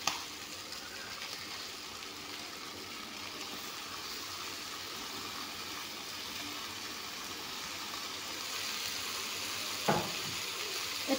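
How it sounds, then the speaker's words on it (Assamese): Chicken pieces frying in a pan in a home kitchen, a continuous close sizzle with faint stirring, and a couple of sharp utensil knocks near the end. "এয়া চাওক চিকেনখিনি ভালদৰে ভজা গৈছে।"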